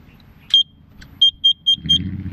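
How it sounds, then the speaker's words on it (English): A Ghost Controls off-grid gate opener powering on gives short electronic beeps: one at first, then a quick run of three or four evenly spaced, clear high beeps over faint background rumble. "I hear a beep. Sounds like a beep."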